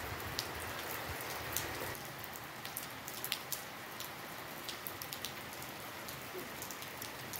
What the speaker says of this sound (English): So let me show you the rain. It's raining here, cat and dog.